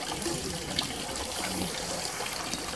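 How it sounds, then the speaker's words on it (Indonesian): Spring water runs from spouts into large jars at a traditional Sungkem Tlompak site, a steady splashing pour with constant trickling. "banyak sekali pancuran yang ada di kawasan ini, dan setiap pancuran akan ditampung dalam sebuah wadah gentong"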